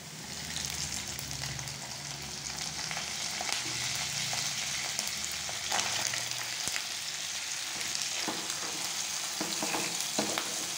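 Fish roe sizzles and crackles steadily in a hot frying pan, with stirring scrapes and bursts of spattering oil, close and loud with no talk.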